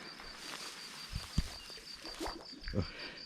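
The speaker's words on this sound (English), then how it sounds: "Some frogs." Frogs croaking in a large well on a rural homestead with a pond in central Portugal, a few faint, scattered croaks over a steady high insect-like whine.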